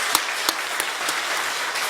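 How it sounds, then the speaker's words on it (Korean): A church congregation applauds after a children's presentation at a worship service, a dense steady patter of many hands with a few sharper claps standing out, lasting a couple of seconds. "박수 주십시오."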